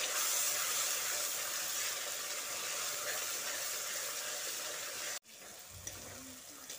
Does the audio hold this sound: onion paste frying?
yes